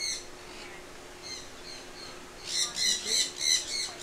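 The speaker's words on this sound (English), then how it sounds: "Whoa, this is such a cool looking bird." Bird squawking while feeding at an Orlando marine park: several loud harsh squawks in a quick rhythmic burst late on, after faint scattered calls, with no talk.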